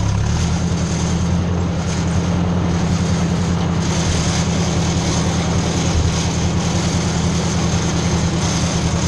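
A tractor engine runs steadily during a ride in third gear, a loud, continuous low drone with constant rumble and no break across the whole stretch.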